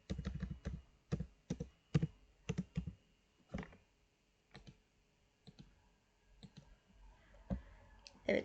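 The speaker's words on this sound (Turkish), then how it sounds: "Sağ tıklıyorum." A computer mouse clicks sharply in scattered single and double clicks across a quiet room, close and crisp, while CAD software is operated.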